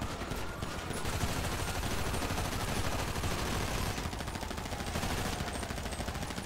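Dense, continuous gunfire from a Grand Theft Auto V shootout, rapid overlapping shots forming a steady loud wash of noise for several seconds, with no clear speech.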